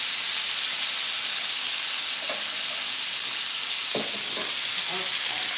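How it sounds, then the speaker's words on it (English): Lamb sears in a hot frying pan, giving a steady, loud, close sizzle throughout, with a few faint knocks and scrapes from the pan. "We've got our lamb searing up there."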